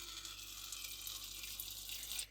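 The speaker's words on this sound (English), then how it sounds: "I will refill his water." Tap water runs into a pet's water bowl as it is refilled, a faint, steady hiss of flowing water that continues without break for about two seconds and then cuts off.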